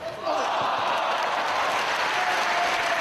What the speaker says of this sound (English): And a round of applause from the fans here in Chicago.